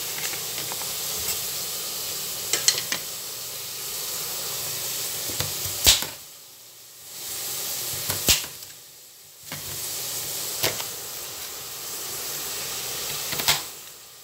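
Potatoes hitting hot oil in a pan of Filipino-style fish stew cooked in Saudi Arabia, giving a steady close hiss and sizzle with a few sharp spatters and two brief lulls.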